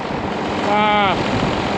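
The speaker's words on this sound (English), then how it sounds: "this tractor that I'm using, the feed tractor, this was our old blower tractor" An old farm feed tractor, formerly used as a blower tractor with a rebuilt engine, runs at a steady loud drone with a rising whine partway through, close by.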